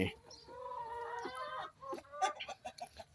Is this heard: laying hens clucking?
yes